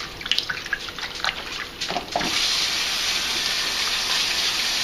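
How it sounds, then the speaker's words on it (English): Tomatoes rinsed under cold running tap water in a sink, a steady splashing flow that begins after a few scattered drips and trickles. "You want to rinse it in cold water"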